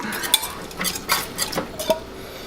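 Parsley, chopped celery leaves, olive oil and lemon juice are stirred together in a bowl, with a series of clinks and scrapes of a utensil against the dish in uneven strokes, close and fairly clear.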